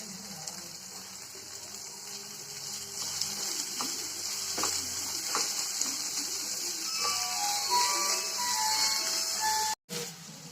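Vegetables and vermicelli for veg semiya idly sizzle steadily in a pan with a constant hiss, while a utensil scrapes and taps now and then as it is stirred.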